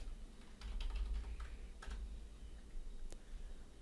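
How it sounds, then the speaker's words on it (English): Several quiet bursts of computer keyboard typing while entering a short word into a chatbot preview, with irregular clicking keystrokes over a faint steady hum and no talk. "And now when we type in hello"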